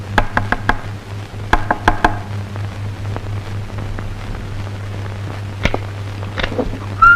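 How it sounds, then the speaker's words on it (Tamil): Several sharp knocks on a door in a cluster, then scattered single raps over a steady low hum and background hiss. "என்னடா இந்த நேரத்துல வந்து எனக்குக்கா கதவை தட்டுற?"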